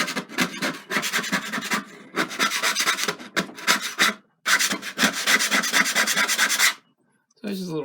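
Dried plaster bits being scraped off a black canvas, a dry rasping scrape repeated in quick strokes, bursts of rubbing with brief pauses between them, close and fairly loud with no talking.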